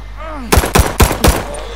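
Four quick, loud gunshots ring out in the Vanguard campaign, evenly spaced over about a second. A faint whistling tone comes just before them.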